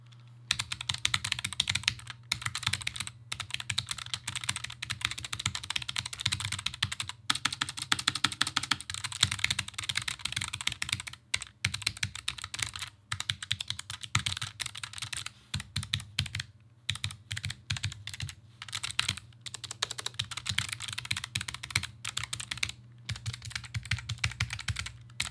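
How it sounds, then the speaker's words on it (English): Rapid, continuous clicky keystrokes on a Logitech G915 low-profile mechanical keyboard, close and crisp, with brief pauses between bursts of typing. "I didn't know how much I would like these switches until I started typing and heard this."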